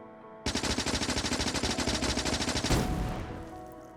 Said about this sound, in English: Okay, so we shoot the one on the left with the SMG.